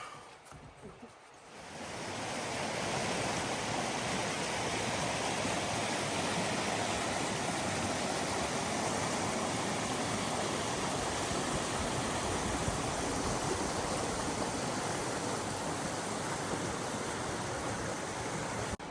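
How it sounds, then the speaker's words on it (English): A waterfall heard at the end of a 395 portage on a canoe trip, a steady, dense roar of falling water that swells in after a quieter first two seconds and then holds loud and unbroken. "there's a cool waterfall, so that's really actually fun"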